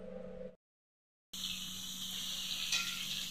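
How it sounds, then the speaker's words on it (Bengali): Pointed gourd frying in a pan, a soft steady sizzle that starts after a brief silence and continues evenly, faint and close, with a small clink near the end. "তো আমি পটলগুলো ভাজা বসিয়েছি"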